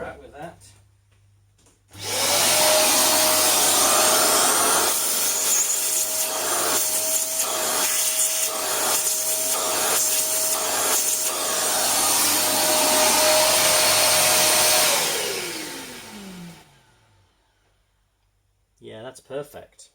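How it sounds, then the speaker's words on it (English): A shop vacuum switches on in a workshop during restoration of a Harrison milling machine, roaring loud and steady with a high whine for about thirteen seconds before spinning down; brief murmured voices bracket it. "Let's just get the vacuum in."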